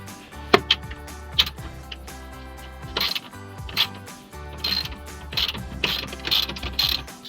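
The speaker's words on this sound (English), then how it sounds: "So we'll go ahead and use our ratchet here." A hand ratchet loosens a bolt on a Ford F-150 EcoBoost air intake, giving close, crisp clicking in short uneven bursts with pauses between strokes.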